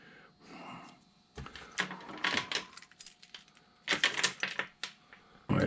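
Metal railroad lock switch keys are handled indoors in a shop, making scattered bursts of close clinks, taps and clattering rattles with short pauses between them.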